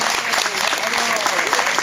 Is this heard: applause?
yes